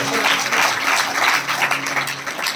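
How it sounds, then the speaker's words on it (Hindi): Applause from an audience gathered for a religious storytelling session on Krishna's life, a brief steady wash of many hands clapping at moderate volume, with no speech over it. "जो भगवान कृष्ण की पार्टी वाले हैं उन्होंने खूब तालियां बजाई।"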